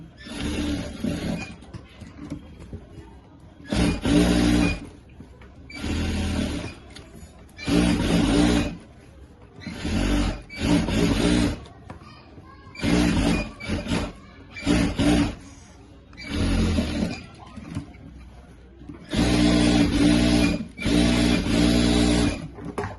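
A sewing machine runs the top-edge seam of a Rajputi kanchli bodice in repeated loud, whirring bursts of a few seconds each, stopping and restarting at close range with brief quiet gaps between runs.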